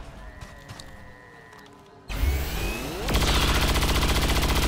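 Gunfire in the XCOM: War of the Chosen video game during a facility assault, a sudden loud burst followed by a sustained rapid rattle of automatic shots over game effects.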